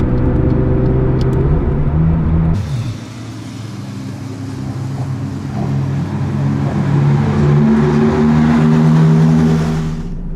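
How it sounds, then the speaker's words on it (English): A McLaren 675LT drives on a race track with lowered tyre pressure, giving a loud, steady engine drone with rough tyre noise from the cabin, which dips briefly and then swells back before easing off. "so we've dropped tyre pressure, so that's why it's making like a really weird, annoying noise right now"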